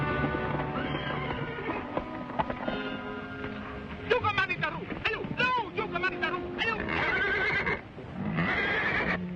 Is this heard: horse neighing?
yes